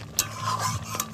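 Goat head meat and fat being mixed by hand or spoon with green and dried chillies, a short, close, wet stirring with a couple of sharp clinks against the bowl, no voices.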